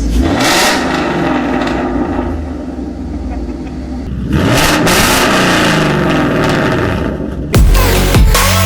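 A salvaged 2016 Mustang GT engine revs hard and close, rising and falling in surges with loud rumbling peaks and a final sharp burst.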